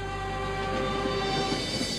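A long cargo train of 48 carriages arriving from Madrid rumbles steadily with a sustained tonal whine and low mechanical drone, close and continuous throughout.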